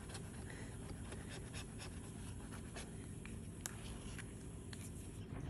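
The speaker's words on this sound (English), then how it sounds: "And if you hear any bumping, that'll be Elvis the dog" A dog pants steadily and close by, with faint scattered bumps and taps as it moves around indoors, all quite quiet.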